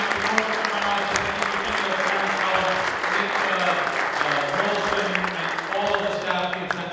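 Sustained audience applause at an AHEPA Delphi Chapter honoring event by the NYC Council, many hands clapping steadily throughout with voices mixed in beneath.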